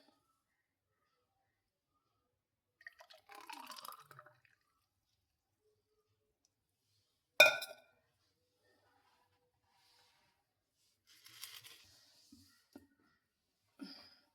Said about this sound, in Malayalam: ഇനി ഇത് ഗ്ലാസ്സിലോട്ട് ഒഴിക്കാം